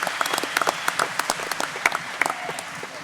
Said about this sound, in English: A round of applause for Tom Adkins.